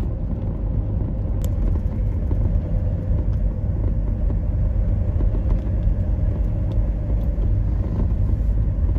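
Steady, loud low rumble of a car driving through Ullapool in the Scottish Highlands, a continuous road and engine drone heard from inside with no break and no talking.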